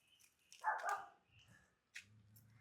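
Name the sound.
dog barking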